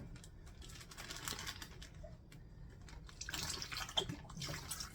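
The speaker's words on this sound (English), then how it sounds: "We're going to put Italian dressing inside of there." Italian dressing is poured over chicken in a crock pot, a faint, soft liquid trickle and splash with small gurgles, quiet and close.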